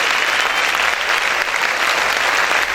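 Loud, sustained applause fills a church as the congregation claps together steadily, with a thick wash of many hands and no clear pauses.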